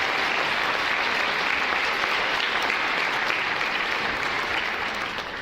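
A crowd at a school esports match event gives a group of paramedics a round of applause, dense steady clapping that holds for several seconds before slowly tapering off.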